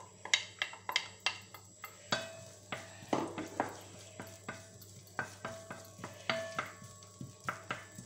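Sliced onion being stirred in a pan while sautéing for paella, with a soft sizzle beneath repeated sharp scrapes and clinks of a utensil against the pan, fairly quiet and close, no talking.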